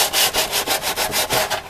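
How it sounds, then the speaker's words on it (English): A scrap of sandpaper rubbed back and forth around the rough cut edges of a homemade plastic growing pot, a quick steady rasping rhythm of about seven strokes per second, close and clear with no voices. "Okay, I just have a piece of scrap sandpaper. We're just going to go around and remove these rough edges."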